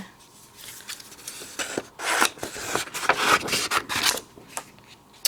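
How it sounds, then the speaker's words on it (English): Green cardstock being trimmed for cardmaking, with a series of close, crisp cutting strokes and paper rubbing and scraping sounds in an irregular rhythm, alone without talk. "I'm going to trim this down a little bit smaller"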